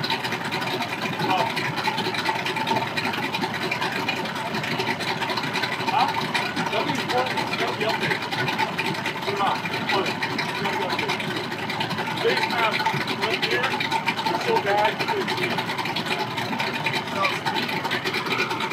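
A 200 Mercury outboard engine on a motorboat drones steadily nearby at a lake boat ramp with a rough, continuous roar, and people talk over it throughout.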